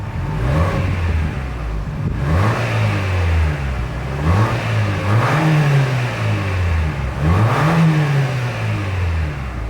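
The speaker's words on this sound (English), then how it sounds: "As always, here is that exhaust clip." A loud 2026 Lexus TX 350 SUV engine revving through dual exhausts, rising and falling in three or four repeated throttle blips, close by with no talking.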